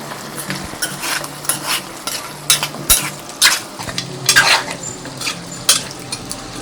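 Chicken cooking in a pan with salt and chili powder for a puri chicken curry, heard as scraping stirs and clinks of a utensil against the pan over a soft sizzle, in irregular bursts with no talk.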